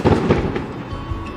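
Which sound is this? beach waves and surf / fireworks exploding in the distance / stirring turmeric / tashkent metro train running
fireworks exploding in the distance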